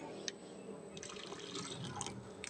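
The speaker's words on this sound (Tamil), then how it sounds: "மிக்சி ஜார் ஒன்று கழுகி நமக்கு தேவையான தண்ணி ஊற்றிக்கலாம்" Water poured into a freshly washed mixer jar while making orange juice, heard as a steady, close splashing pour with scattered drips and no talking.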